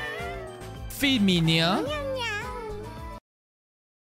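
A person meows at a cat in imitation, with strong wavering meow calls from one voice over anime-style background music, followed by a short spoken line.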